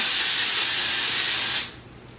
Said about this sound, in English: I just spray it around